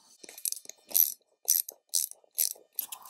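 A hose clamp being tightened on a rainwater tank hose gives a series of short, close ratcheting clicks in about six quick bursts with brief pauses between them, with no speech.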